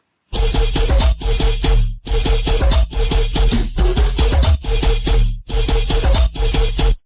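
A dense electronic music loop with pounding kick and bass, a rhythmic pattern repeating every second or so, and a gritty noise layer filling the top.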